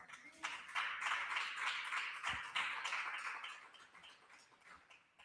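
Church congregation applauding during a Spanish-language sermon, a broad steady wash of many hands clapping for several seconds with faint voices mixed in.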